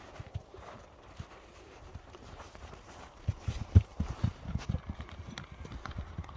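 Hooves of a stout horse clip-clop over the ground with a few scattered footfalls at first, then grow louder and denser in the second half, with faint background noise throughout.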